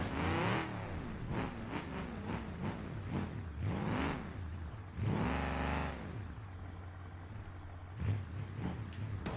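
A 1500 horsepower car engine in a video game revs repeatedly in rising and falling bursts, loud and close, with a long sustained high rev in the middle and shorter blips after it.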